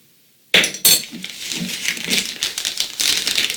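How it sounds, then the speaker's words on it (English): A spoon stirs fajita marinade of salt and pepper in a glass bowl, giving close, steady clinks and scrapes against the glass that begin with a couple of sharp knocks and carry on as a busy, rattling mix. "So now I go ahead and mix this marinade all together."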